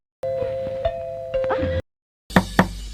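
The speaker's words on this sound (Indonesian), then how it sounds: "Bel rumah kembali berbunyi." A house doorbell chimes with a sustained ding-dong tone over faint room noise, then after a short silence two sharp knocks or thuds sound close by.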